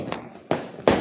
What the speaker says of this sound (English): Whoa, those are real fireworks.